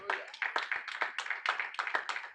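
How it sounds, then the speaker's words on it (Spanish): A church congregation at a Sunday service claps in quick, uneven bursts, a moderately distant patter of many hands that keeps going without voices on top. "Pero regálenme un fuerte aplauso al Padre, al Hijo y al Espíritu Santo"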